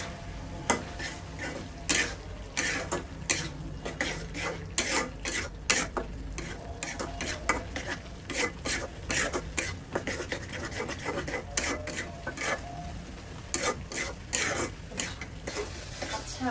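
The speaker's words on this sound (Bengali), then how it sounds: "আমি মশলাগুলো দিলাম যতক্ষণ পর্যন্ত না লালচে কালার আসতেছে মশলার, আর তেলটা উপর থেকে যতক্ষণ না ভেসে উঠতেছে ততক্ষণ মশলাটা আমাকে কষাতে হবে" Spices being stirred and scraped in oil in a pan for Bengali chicken kosha, with frequent sharp spatula scrapes and clinks against the pan and a soft sizzle underneath, close and steady.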